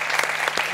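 Live studio audience clapping during a talk show, a short dense burst of applause with a few sharp individual claps standing out.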